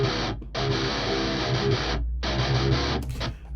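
Heavily distorted electric guitar through a Neural DSP Soldano SLO 100 amp plugin, with a dense, loud chugging riff broken by brief stops.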